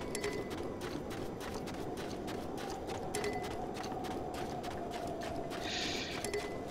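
Rapid rhythmic hoofbeats of a galloping horse in The Legend of Zelda: Breath of the Wild, steady and continuous over a soft ambient rumble, with no talking.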